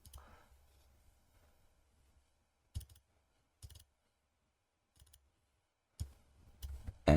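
Several sparse, quiet mouse clicks while working in MagicaVoxel voxel-editing software, with Control held; isolated single clicks and short pairs spaced by silence, close to the mic, ending in a louder burst.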